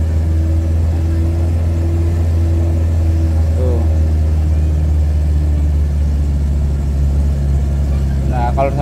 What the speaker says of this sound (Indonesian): biar tidak terlalu mengeraung mesinnya